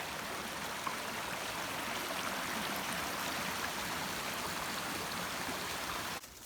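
A wilderness stream flows in a steady, soft rushing wash, constant and fairly faint throughout, with a brief knock near the end.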